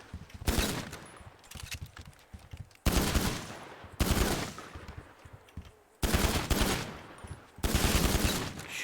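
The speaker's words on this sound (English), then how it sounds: "And we'll test out the shooting." Loud, close gunfire in GTA FiveM, tested on a custom interior map, rattles out in five rapid automatic bursts separated by brief pauses.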